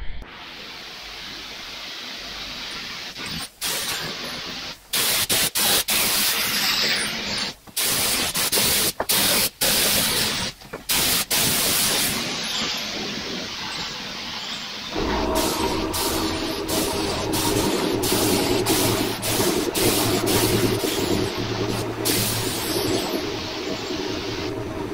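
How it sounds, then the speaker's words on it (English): Spray gun laying primer onto power harrow parts, a loud steady hiss in long bursts broken by short pauses, with a shift in tone midway, no voices. "It's going to be primer, and we'll show you a bit of the priming going on"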